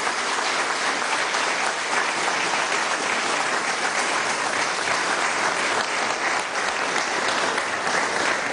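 Audience applause at a national productive economy council meeting on the hydrocarbon sector, a dense, steady clapping that holds at an even level from start to end with no talk over it.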